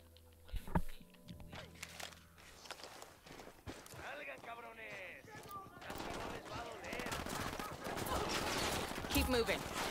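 Bursts of gunfire ring out in a video game, with sharp shots early and denser volleys later, mixed with hoofbeats, footsteps and players talking over the action.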